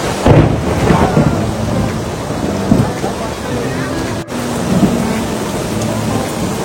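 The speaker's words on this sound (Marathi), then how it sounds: "मजबूत पाऊस पडतोय" Heavy rain pounds down steadily in Mahabaleshwar, a loud dense hiss with low thunder rumbling through, with no voices.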